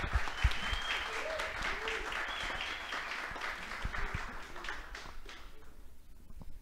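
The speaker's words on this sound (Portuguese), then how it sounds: "se a gente puder dar uma salva de palmas novamente" Audience applause for Olympic athletes at a sports discussion event in São Paulo, a dense sustained wash of clapping from a large crowd that thins slightly toward the end, with faint voices mixed in.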